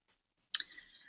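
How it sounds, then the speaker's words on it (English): A single mouse click on a button in an Ensembl online training session, one sharp near tap followed by a faint short ringing tail, alone in otherwise quiet surroundings. "So I'll just click this button here."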